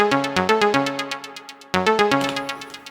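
An Elektron Syntakt groovebox plays a short looping step-sequenced pattern of bright, plucky synth notes with punchy low hits, repeating twice in a tight, even rhythm, close and clean.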